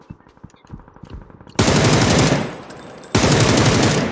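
Automatic gunfire in a multiplayer shooter video game, two sudden loud sustained bursts after quieter game sounds, close and dominant.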